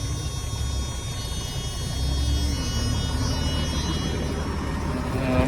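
A 1987 Freightliner wrecker truck idles steadily after sitting for about a year and a half, a low diesel rumble and hum holding even and close throughout with no talk over it.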